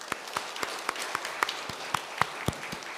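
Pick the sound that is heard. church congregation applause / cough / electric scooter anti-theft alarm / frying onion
church congregation applause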